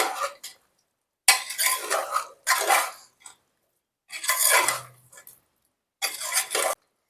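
Mutton curry with fresh coriander stirred in a pot in several separate bursts of scraping and clattering, with silent pauses between them.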